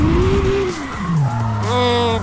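A car drifting in the CarX racing game, with a loud engine whose pitch rises and falls and tires squealing steadily through the slide, close and continuous.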